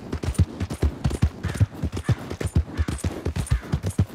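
Horse hooves in the Western video game Red Dead Redemption 2, a steady rhythmic clip-clop of galloping steps at moderate volume, continuous throughout with faint background ambience.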